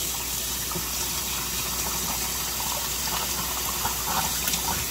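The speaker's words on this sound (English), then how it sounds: "Fill this up with water." Water pours steadily from a tap into a container, a constant close rushing splash with no talking.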